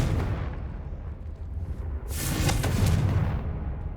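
A Confringo fire-blast spell in Hogwarts Legacy erupts as a loud, rumbling explosive burst midway through, swelling and trailing off over a continuous bed of game noise, with no talk.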